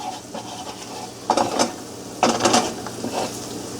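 A butter and flour roux gets stirred in a pan, a steady low sizzle underneath with two clusters of louder scraping strokes, close and fairly loud, no talking.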